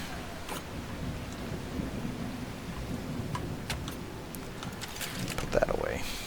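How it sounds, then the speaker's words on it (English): Rain falling steadily in The Last Caretaker video game, a constant wash of drops with low rumbling thunder underneath and a brief brighter flourish near the end. "oh, it's raining"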